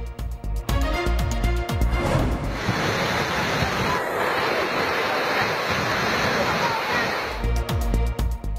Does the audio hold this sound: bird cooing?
no